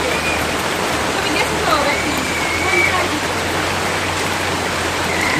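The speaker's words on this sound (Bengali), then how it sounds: "বৃষ্টি শুরু হয়ে গেছে" Afternoon rain pours steadily outdoors, a dense, even wash of falling water that stays loud and constant throughout, with no voices standing out.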